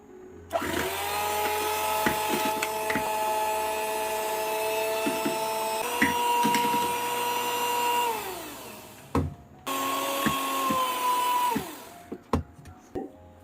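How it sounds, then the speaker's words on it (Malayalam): An electric hand beater whirs loud and steady as it beats powdered sugar in a bowl for a semolina rava cake, shifting pitch slightly, pausing once briefly before resuming, then clattering to a stop with a few knocks. "ഇനി പഞ്ചസാര നല്ലതുപോലെ ഒന്ന് ബീറ്റ് ചെയ്യണം"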